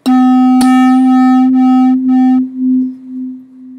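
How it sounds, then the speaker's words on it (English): A pair of slightly mistuned struck tones sustains a loud pure note. The note throbs in slow, even waves of loudness, waxing and waning more deeply as it fades away. "Is it going up and down?"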